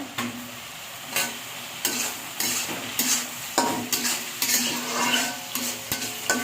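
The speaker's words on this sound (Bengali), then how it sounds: "দেখেন এই ফাঁকে আলু ভাজিটা" Potato bhaji being stirred and fried in a pan, a soft steady sizzle broken by repeated scraping strokes of a spatula against the pan, close and fairly quiet with no talking.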